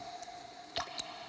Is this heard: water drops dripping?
yes